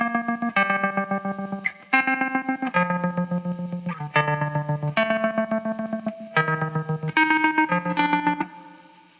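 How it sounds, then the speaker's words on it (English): Distorted electric guitar chords stutter through a slicer effect blended with tremolo, giving rapid choppy pulses in a riff. The guitar is loud and upfront, with no voices. "what if I add the tremolo to that sound to have an in-between?"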